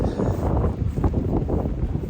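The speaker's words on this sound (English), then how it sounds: "Wow, very windy though." Wind gusting steadily across a cold mountain trail in the Smoky Mountains, a loud low rumble of buffeting against the microphone with no break.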